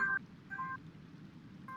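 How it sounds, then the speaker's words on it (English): A phone rings in short electronic trill bursts, a fairly clear one at the start and again around the middle, with another beginning at the end, over a low background hum. "It's like your phone ringing."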